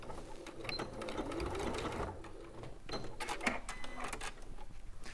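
A sewing machine stitches fabric in quick rattling bursts with brief pauses between runs, moderately quiet and close, with faint background noise.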